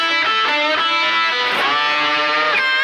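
Distorted electric guitar playing the next section of a song in A, with bent notes and dense sustained lines running steadily throughout, loud and alone.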